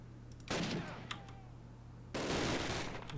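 Bursts of gunfire in a snowy Hürtgen Forest level of Call of Duty, with two loud, dense volleys of rapid shots separated by a quieter stretch with scattered distant pops.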